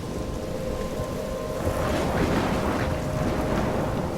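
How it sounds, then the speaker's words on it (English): A steady roar of heavy rain pours through a thunderstorm in the game Life Is Strange, with low rumbling swelling midway, dense and constant with no voices. "I'm trapped in a storm?"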